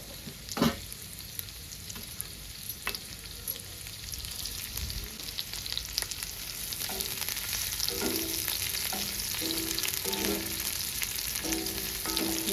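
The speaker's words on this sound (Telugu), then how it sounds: "బాగా ఫ్రై చేసుకుందాం" Chopped onion and green chillies fry in a pan for a Telugu alasanda charu and chicken fry meal, a continuous bright sizzle that builds steadily, with a few stirring knocks early on.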